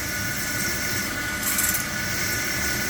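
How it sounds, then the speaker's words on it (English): CNC machining centre peck drilling a deep hole, a continuous gritty scraping and cutting noise with a slight surge midway, loud and close with no voices. "when you drill a deep hole, you don't want all the swarf building up, so you do peck drilling"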